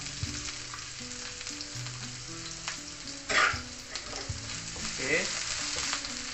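Red onion frying in a pan after chopped garlic, a continuous close sizzle with occasional spatula scrapes and a brief spoken word.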